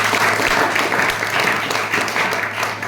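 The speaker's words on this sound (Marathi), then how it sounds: "टाळ्या वाजवा त्या मुलीसाठी" Audience applause at a secondary school event in Korle, a steady wash of clapping hands filling the room throughout, loud and continuous with a low hum underneath.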